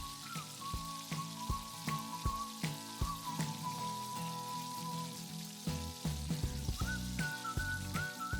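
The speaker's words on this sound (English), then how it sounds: "Let the pakoras fry on medium heat, turning them from all the sides." Pakoras frying in oil on medium heat make a continuous crackling, bubbling sizzle with scattered pops, heard alongside soft background music.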